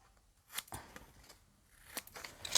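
Paper corners being snipped with scissors for a scrapbook album page, a few short crisp cuts spaced out, close and fairly quiet in a still room.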